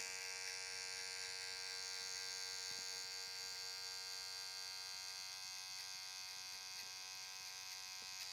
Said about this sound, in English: Using the toe and heel on my trimmer